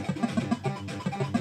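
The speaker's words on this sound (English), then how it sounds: "This bleeping noise you can hear in the background is the sound to this game." Rapid electronic bleeps in a bouncy, repeating pattern from a ZX Spectrum game, steady and moderately loud with no voices.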